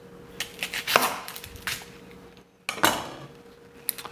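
A knife slices through an onion on a board in a handful of sharp, close chops, with short pauses between cuts and no talk.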